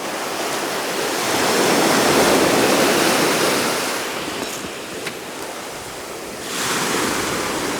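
Surf waves break on a Sea of Japan beach in Niigata, a continuous broad roar that swells and ebbs as waves crash. It is loud, with some wind buffeting the microphone and no talk.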